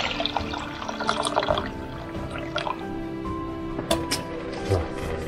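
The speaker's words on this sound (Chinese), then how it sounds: "加水，现在可以。" Tap water running in a thin trickle into a cooking pot on the stove, a steady close splashing and dripping with a few louder gurgles and clinks.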